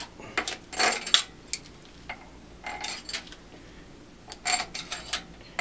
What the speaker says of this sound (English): Just go ahead and put your bolts in to your oil pump.